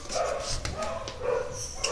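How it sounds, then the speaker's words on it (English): Dogs bark and yip in the distance, several short calls spread across the moment, faint against background noise. "Why are the dogs barking?"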